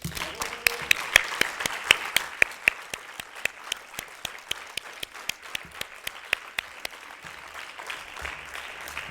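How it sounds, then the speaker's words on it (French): An audience applauds steadily at a conference closing, with dense overlapping claps and sharp individual hand strikes standing out near the front, continuing evenly throughout. "Je vous propose de les applaudir."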